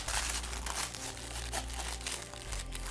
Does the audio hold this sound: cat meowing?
no